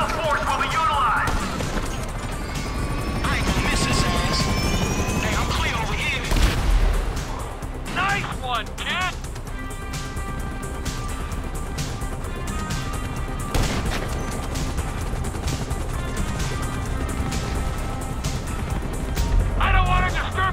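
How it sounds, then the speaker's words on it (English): Gunfire and police helicopters in the GTA 5 video game, with bursts of shots, booms and crashes over a continuous rotor-like drone, loud and busy, with voices speaking over parts of it. "you might want to do something about the choppers before we're blown out of the sky"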